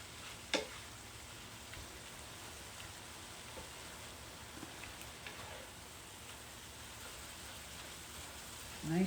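Green peppers, onions, garlic and chili powder being stirred in a pan, giving a steady soft sizzle and scraping throughout with a few brief louder clatters, the loudest near the start and at the end.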